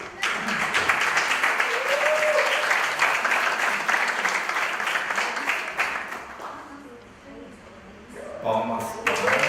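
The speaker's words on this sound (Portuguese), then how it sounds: "Palmas." An audience at a Japanese-Brazilian community event claps as a participant is called up, sustained applause that gradually thins out while voices talk over it, with a brief burst near the end.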